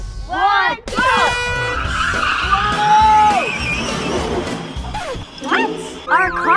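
Cartoon race cars speed off together, with engine whooshes, tire squeals and skids, loud and busy from start to finish, mixed with excited voices and upbeat music.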